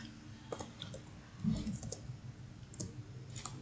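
Typing Java code on a computer keyboard: soft, quick key clicks in irregular bursts with short pauses, close and fairly quiet, with no talk over them.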